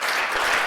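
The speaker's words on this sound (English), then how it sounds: "May I please ask you to clap 2 times with your hands for me?" An audience at a talk clapping together in a brief, loud burst of many hands, close and with no voices over it.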